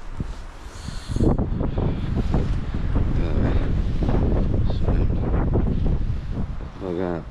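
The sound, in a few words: strong wind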